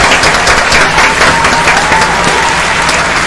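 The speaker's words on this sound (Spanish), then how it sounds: "Un fuerte aplauso para él." A studio audience gives a loud, steady burst of applause for an interview guest, a specialist in ethics and human rights, with close, dense clapping filling the whole moment.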